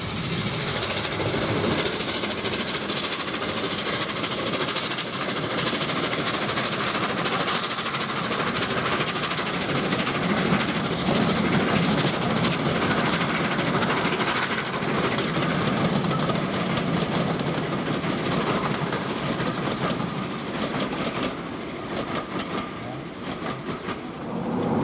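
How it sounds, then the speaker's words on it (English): A Gresley steam locomotive, Tornado, climbs Erdington Bank towards Bridgnorth, a continuous dense rumble and rushing roar with clattering rail noise throughout, heard steadily and fairly close without talk. "Time to hear that Gresley chuff in action as we hear Tornado battling up Erdington Bank"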